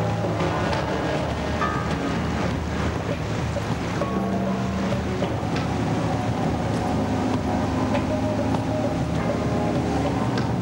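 Strong sea currents and breaking waves at the Raz de Sein churn in a continuous, loud rush, mixed with wind buffeting the microphone and the steady rumble of a boat.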